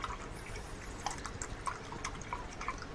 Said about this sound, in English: and you wash these brushes out